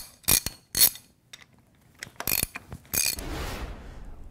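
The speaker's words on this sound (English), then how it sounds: "you have to loosen the half inch bolts on the rotating assembly on the outside of the retaining ring." Ratchet wrench loosening half-inch bolts on the retaining ring of a Gorman-Rupp Super T10 pump: several short, sharp clicking bursts with pauses between them, close and fairly quiet.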